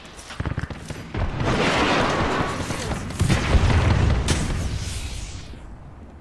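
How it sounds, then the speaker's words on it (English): Grenade blast in the video game Apex Legends, a loud rumbling boom swelling over several seconds amid sharp gunfire cracks and clattering mechanical noise, up close. "Grenade."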